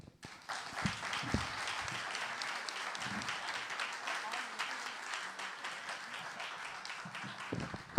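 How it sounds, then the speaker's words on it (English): An audience at an African American authors' event applauds author Bakari, with a continuous wash of clapping at moderate distance and some voices mixed in. "please let's give Bakari another round of applause"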